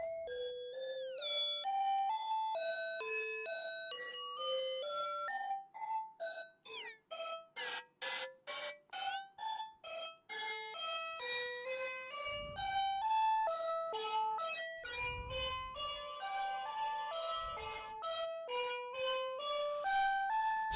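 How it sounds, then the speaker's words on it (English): A Modul:e Elements synthesizer voice plays breathy, panpipe-like blown tones in a stepping melody, at first sustained and later in short, rhythmic plucked-sounding notes, alone with no talk. "So we have a kind of interesting blowing sound."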